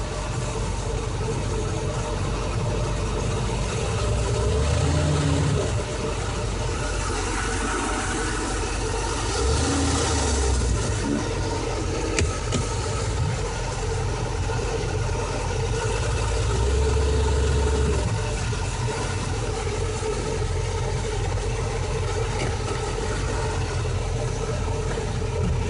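The engine of a 1974 Starcraft Starcruiser idles steadily while shifted into reverse gear, a continuous low rumble heard close up with no talking.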